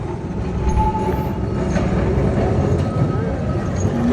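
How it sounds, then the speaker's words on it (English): A Kolkata tram rumbles steadily along its rails with a continuous low roar, faint squeals and clatter rising now and then. "This is the Kolkata tram."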